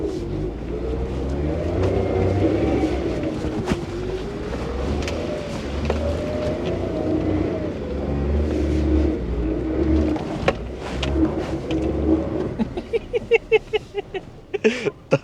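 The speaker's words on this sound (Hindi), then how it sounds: "तो आप लोग की गाड़ी जो है फंस गया।" A car stuck off-road revs its engine hard, a continuous loud low drone with rising and falling pitch as the throttle changes, ending in choppy bursts of engine noise and clatter.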